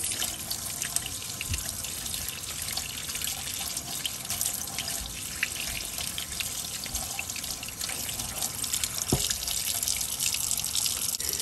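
Tap water running steadily into a sink while makeup brushes get a final rinse, a continuous close hiss of flowing water with occasional soft splashes and drips.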